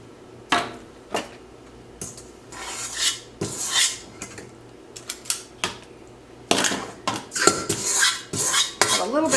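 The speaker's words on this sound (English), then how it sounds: "Go ahead and scrape out the pan or our mixing bowl and make sure that we get all of our dough." A spatula scrapes cookie dough from a mixing bowl during fall pecan baking, giving a series of irregular clinks and scrapes against the bowl, close and fairly loud, in bursts with short pauses between.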